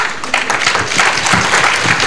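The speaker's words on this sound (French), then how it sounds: "ces applaudissements-là ne peuvent pas réveiller" An audience at a coaching workshop claps in a brief, loud burst, a dense flurry of many hands close by.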